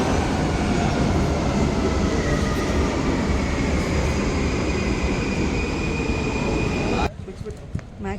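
A Munich U5 subway train pulls into the station with a loud, continuous rumble and roar of wheels on rails, close by and steady, before the noise drops away near the end.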